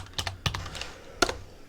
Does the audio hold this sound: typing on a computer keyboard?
yes